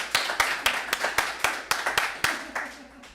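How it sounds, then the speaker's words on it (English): A small graduation audience gives a brief round of applause, heard as a run of distinct, fairly close claps in an uneven rhythm rather than a dense roar. "So a round of applause for them as"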